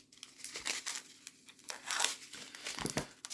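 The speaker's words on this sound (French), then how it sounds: "Alors, je coupe au fur et à mesure" Plastic diamond painting drill bags being cut open and handled one after another, with close crinkling, rustling bursts and brief snipping sounds, fairly quiet and uneven, no voices.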